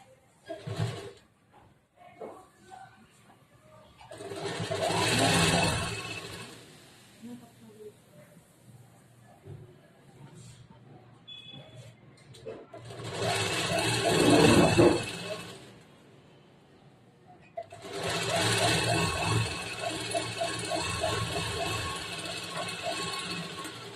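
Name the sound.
sewing machine stitching a blouse seam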